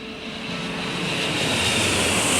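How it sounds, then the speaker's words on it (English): A jumbo jet roars low down the Hudson River past Manhattan's west side, a steady broadband whine and rush that swells gradually louder as it approaches, with no voices. "the people along the west side of Manhattan heard a piercing whine of a jumbo jet making its way down"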